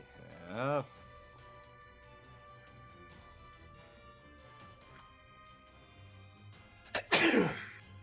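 A single sharp sneeze bursts out loudly near the end, close to the microphone, during a tabletop role-playing podcast session of Tomb of Annihilation; low background chatter and a brief voiced sound come earlier.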